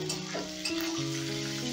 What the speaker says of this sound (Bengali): আলুটা হালকা ভাজা হয়ে গেছে, এবারে আমি গাজরটা দিয়ে দেব।